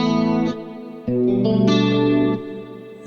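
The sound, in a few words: electric guitar with stereo chorus effect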